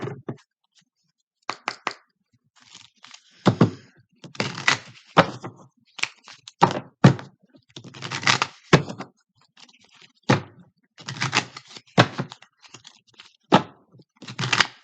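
Irregular bursts of crisp oracle card riffling and flapping, with pauses between shuffles and occasional taps as the cards settle.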